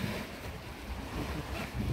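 Steady wind buffets the microphone over the rushing wash of beam sea swell against a moving sailboat in the Caribbean Sea, loud and continuous.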